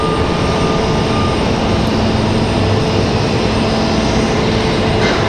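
McDonnell Douglas MD-11 jet departing Raleigh Durham airport at night: a loud, unbroken engine roar that stays level throughout, with no speech.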